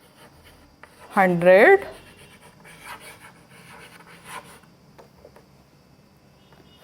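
A pen scratches out numbers during a maths lesson, with faint, irregular scribbling after a teacher speaks briefly near the start.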